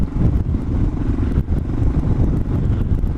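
A Suzuki DR650 dual-sport motorcycle rides in fourth gear along a desert track, its engine a steady loud drone mixed with heavy wind buffeting on the microphone throughout.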